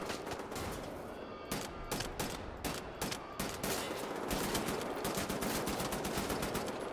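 Gunshots in Wolfenstein: The New Order: a steady string of sharp, close, loud shots in quick rhythm that runs into sustained automatic fire over a busy game backdrop.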